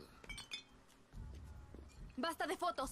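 Glasses clink together in a toast in the video game Far Cry 6, with a few light chimes early on and a brighter cluster of ringing clinks near the end, mixed with nearby talk.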